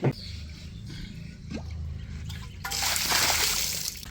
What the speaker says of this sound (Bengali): একবার এতে জল দিয়ে দিলাম